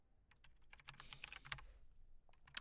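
Fast, irregular clatter of keys on a computer keyboard, with bursts of quick keystrokes in close, quiet surroundings and no one talking.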